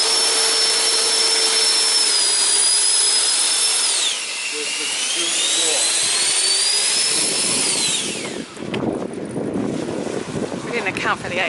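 Loud electric fans on a homemade electric luge, a steady high whine like a hairdryer that drops in pitch as it winds down, then rough scraping and wind noise as it moves, with voices talking over it.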